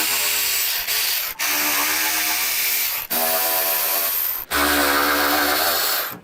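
A 3/8 ratchet backing out oil pan bolts on a motorcycle during a center stand install, fast continuous clicking bursts separated by brief pauses as the handle is reset, close and clear.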